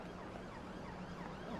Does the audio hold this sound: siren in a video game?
yes